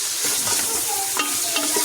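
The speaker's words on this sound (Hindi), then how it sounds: "अब हम इसको थोड़ा सा जिंजर गार्लिक पेस्ट को अलॉन्ग विद चिकन फ्राई कर लेंगे" Chicken frying with ginger garlic paste in a pan for a home-style chicken curry, a close steady sizzle with stirring scrapes and light clinks throughout, no voices.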